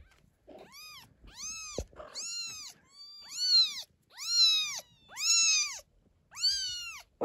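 Hungry young kittens, about two weeks old, meow repeatedly and loudly at close range, around seven drawn-out rising and falling cries in a steady series with short pauses between them.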